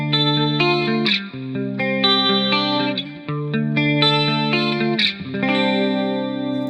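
An electric guitar through a chorus pedal with the depth turned up plays sustained shimmering chords in a steady strummed pattern, upfront and alone.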